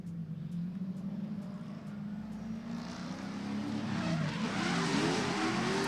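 Drift cars in a tandem battle at a Drifting the Plains event rev hard, the engine drone rising and swelling toward the end with tire squeal and a distant, washed-out roar, no voices over it.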